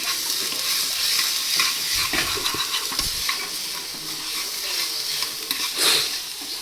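Garlic and onion sauté in hot ghee with a steady, broadband sizzle, while a utensil stirs and scrapes intermittently through the pan for nearly seven seconds, close and fairly loud with no talking.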